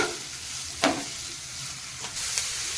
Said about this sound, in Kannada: ಇದಕ್ಕೆ ಈಗ ಒಂದು ಸಣ್ಣದಾಗಿ ಕಟ್ ಮಾಡಿಟ್ಟಿರೋಂಥ ಈರುಳ್ಳಿ ಇದನ್ನು ಕೂಡ ಈಗ ಫ್ರೈ ಮಾಡಬೇಕು